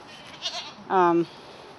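A single sheep from a farm flock gives one clear, close bleat lasting a fraction of a second, preceded by a faint shorter sound.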